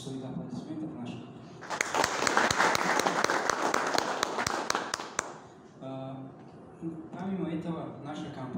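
The audience at a press conference gives a burst of crisp, sharp clapping that lasts a few seconds. Someone speaks before and after it.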